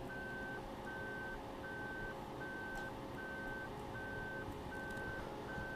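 A military-style truck being moved in Farming Simulator 2015 gives off an evenly spaced reversing beep that repeats about eight times over a steady low engine rumble.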